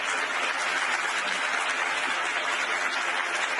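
A large audience at Davos claps continuously, a dense, even roar of many hands applauding at close range with no pauses and no talk.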